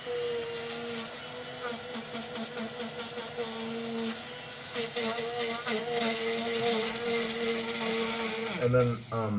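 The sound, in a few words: power tool sanding Bat'leth prop smooth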